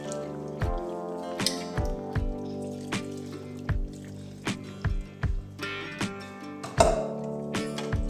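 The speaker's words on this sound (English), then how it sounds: "Adding some water." Water drips and splashes into a pot of Nigerian egusi soup on the stove, a close series of separate wet plops and trickles in an irregular rhythm.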